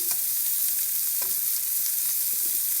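Carrots and mushrooms frying in a pan for a chicken and vegetable spaghetti, a soft steady sizzle with faint stirring clicks and scrapes, no voices.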